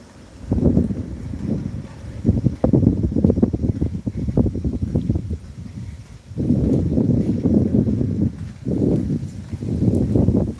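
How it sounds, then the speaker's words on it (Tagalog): Gusts of wind rumble and buffet the microphone in long, heavy waves with brief lulls between them, loud and close, and no voices. "Hangin man ang gabi nata."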